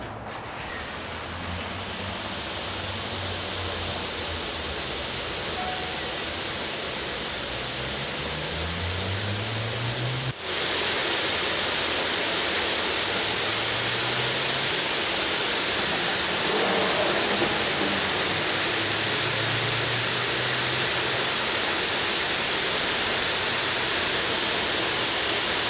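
A low-pressure water arch in a car wash bay sprays in a loud, steady rushing hiss that continues unbroken apart from a brief dip partway through.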